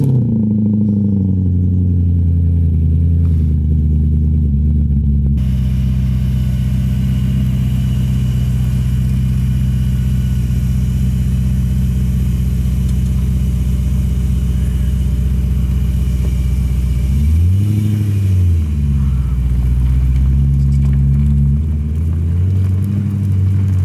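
BMW E30 fitted with an M60 V8 engine driving, a loud steady low engine drone with road rumble inside the car, rising and falling briefly once as the revs change, no talking.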